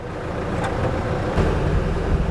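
An Indonesian Army Humvee-style off-road vehicle on extreme mud-terrain tires, driving with a loud, steady engine drone and rumbling tire and road roar, close and continuous without talk.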